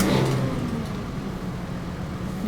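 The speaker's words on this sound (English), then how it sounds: "we need to start the engine" An RV engine running just after starting, a steady mid-pitched rumble with a brief rev at the beginning, close and continuous throughout.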